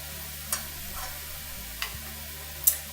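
Marsala wine bubbles gently in a hot pan with a soft, steady sizzle and a few sharp little pops, quiet and close.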